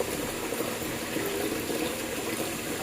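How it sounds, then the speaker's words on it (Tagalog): Steady bubbling and simmering of liquid boiling in a cooking pot, a soft continuous churn with no voices. "kumukulo na siya"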